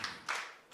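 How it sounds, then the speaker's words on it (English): An audience at a county government quarterly review meeting claps in brief bursts of applause, with no talking. "Let's clap for her."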